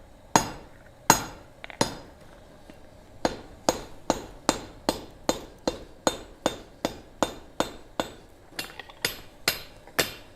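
Steel on a gas forge is hammered to dress and bevel its edges, making a steady series of about twenty sharp ringing blows, close and loud, evenly spaced and speeding up slightly after the first few strikes.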